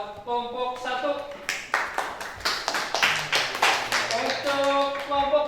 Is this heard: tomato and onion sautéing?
no